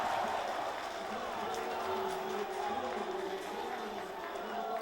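Packed gym of about a thousand fans at a high school basketball game, a steady roar of chanting, screaming and cheering that carries on throughout with no break.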